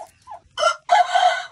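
A chicken gives two loud, close clucking bursts, a short one followed by a longer drawn-out call, with no one speaking.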